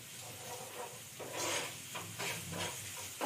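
Chicken kheema with ginger garlic paste sizzles in a pan, a steady close hiss swelling in bursts as it is stirred, with no talking.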